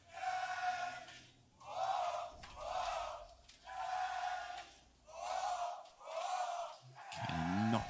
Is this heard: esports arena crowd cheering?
yes